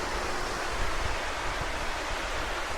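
A Himalayan waterfall known as the Bridal Veil, a loud, steady broadband rush of falling water heard close, with a constant roar and no voices.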